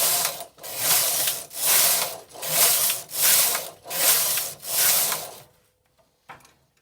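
A Silver Reed punchcard knitting machine knits rows in six rhythmic back-and-forth carriage passes, each a loud rasping, ratcheting sweep with short gaps between, ending in near silence with a faint click.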